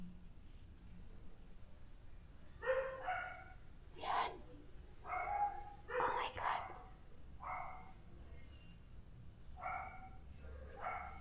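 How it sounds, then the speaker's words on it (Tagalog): Dogs bark in short clusters nearby, several yaps and woofs spread over the stretch with brief pauses between them. "So, may mga aso guys, no?"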